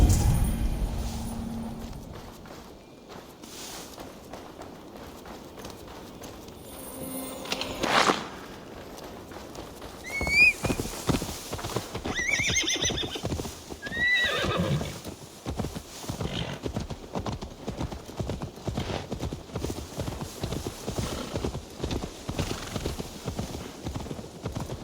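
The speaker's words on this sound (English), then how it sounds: "Now to deliver Magni his horse." Steady clip-clop of horse hooves at a walking rhythm, with a couple of short whinnies partway through over a quiet ambience in the video game Assassin's Creed Valhalla.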